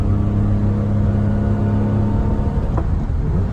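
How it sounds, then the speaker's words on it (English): A 1990 Mitsubishi MiniCab kei van with a 5-speed gearbox hums steadily from inside the cab as its small engine pulls and accelerates, a low, even drone that holds throughout. "this car is very throaty"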